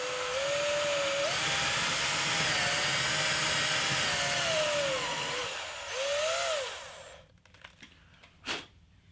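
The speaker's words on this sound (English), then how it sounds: "I've set the depth on this bit and marked it with some tape, so I'm going to go ahead and drill." A power drill boring depth-marked holes into an electric guitar body for a bridge install, a loud steady whine with shifting pitch for about seven seconds before stopping, followed by faint handling noises and a brief knock.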